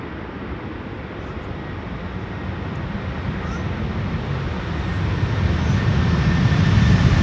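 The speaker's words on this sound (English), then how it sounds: "This is Delta Airlines Flight 162, arriving from Minneapolis, Minnesota." A Delta Airlines airliner arriving at Amsterdam Schiphol after a flight from Minneapolis, its engines a steady broadband roar that slowly grows louder over about seven seconds, with some wind noise and no voices.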